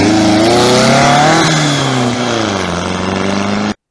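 A 1972 classic VW Beetle with no deck lid drives away, its air-cooled engine revving loudly and close, then easing off as it pulls into the distance before cutting out.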